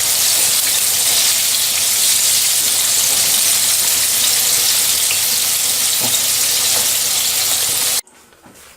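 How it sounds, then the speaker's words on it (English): Tandoori chicken wings deep frying in hot oil give off a loud, dense, steady sizzle and crackle that fills the clip, then cuts off abruptly near the end. "The wings are fried. They are super crispy"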